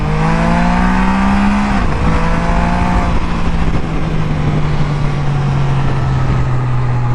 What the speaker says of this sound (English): I know you've been hearing them downshifts, Randy.